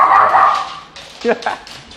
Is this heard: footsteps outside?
no